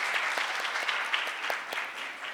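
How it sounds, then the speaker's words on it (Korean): An audience claps together at a Korean speech contest in Toronto, giving a brisk, continuous patter of many hands at even loudness for a couple of seconds, with no talk over it. "다시 한번 큰 박수 부탁드립니다."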